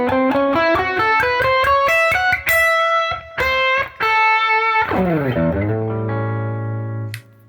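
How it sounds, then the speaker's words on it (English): Electric guitar runs up and back down the major blues scale one note at a time, evenly paced with light effects, then settles on a long sustained low note, alone without any talking. "that's the sound of the major blues scale"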